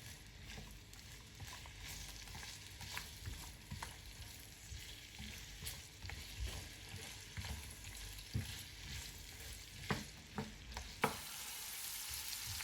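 Carrots frying in hot ghee in a pan give a steady, close sizzle with occasional crackles and light stirring or scraping sounds.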